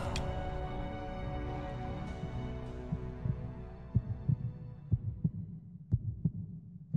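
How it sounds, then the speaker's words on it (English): A pounding heartbeat from the video game Metal Gear Solid builds tension before a fight, thudding in a steady throbbing rhythm over a low droning hum, the beats growing sharper and more distinct as it goes on. "the heart pounding is a great way to start a tension-filled fight"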